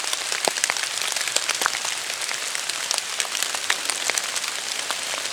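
Dense rain patters and drips steadily onto a nearby surface in a forest, with sharper individual drops ticking through the constant hiss.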